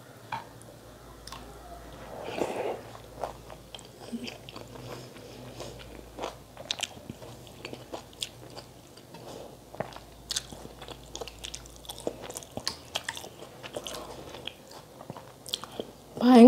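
Close-up eating of pazhankanji, fermented rice, mixed with raw banana thoran and okra stir-fry, with soft wet chewing and squishing and occasional crunchy bites in an irregular rhythm, loud and near.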